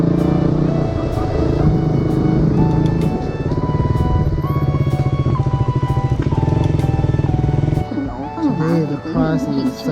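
A KTM Duke 200 motorcycle engine runs steadily and loudly up close during a ride toward the Great Wall near Beijing, a continuous droning rumble with shifting pitch that roughens near the end, with talking over it.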